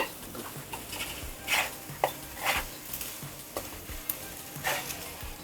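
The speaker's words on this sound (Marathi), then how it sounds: "आता आपण हे प्लेटवर काढून घेऊया" A simple tomato omelette is scraped from a hot pan onto a plate, giving a soft steady sizzle punctuated by several sharp scrapes and clinks of the utensil against the pan.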